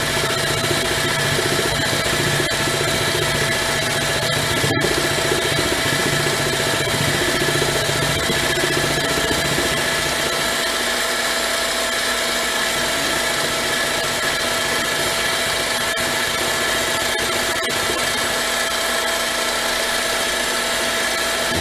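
A mini lathe spinning at 890 RPM cuts steadily with the feed rate raised, giving a continuous close machining whine and rumble that holds throughout. A sharp click lands near the five-second mark and the low end drops away in the second half.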